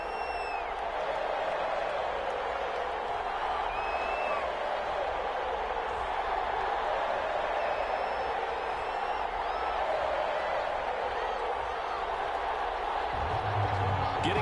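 A stadium crowd roars steadily before a Green Bay Packers versus Las Vegas Raiders matchup in the Madden 21 football game, a dense, continuous murmur of cheering and applause throughout.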